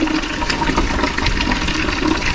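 Ice water pours and splashes heavily over a person outdoors, a loud continuous gush of liquid throughout.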